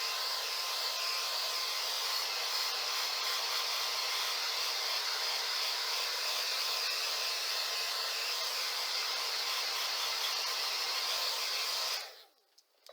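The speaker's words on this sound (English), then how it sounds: "this hair dryer I'm using is not particularly strong in terms of how much it pulls" A weak hair dryer blows steadily on fresh paint on a miniature frog figure in armor, a loud, even broadband whoosh that runs unbroken for about twelve seconds before cutting off abruptly.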